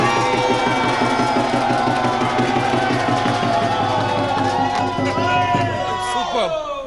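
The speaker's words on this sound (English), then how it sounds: "These fans were cheering for India and Pakistan" Fans cheering for India: a dense, continuous roar of crowd voices and chanting, loud and sustained throughout, with a sharper shout near the end.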